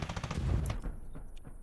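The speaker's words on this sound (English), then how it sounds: "And that's my gunfire, because I'm already making a strafing pass" Rapid bursts of machine gun fire from an aircraft strafing pass crackle through a loud War Thunder soundscape, the firing dense at first and thinning into scattered shots and rumble.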